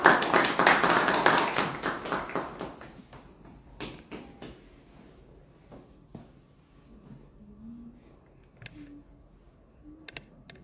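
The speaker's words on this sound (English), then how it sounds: "Please, a beautiful round of applause," Applause from an audience at a meet-and-greet event, dense clapping that starts loud and fades away over several seconds into a few scattered claps and quiet room noise.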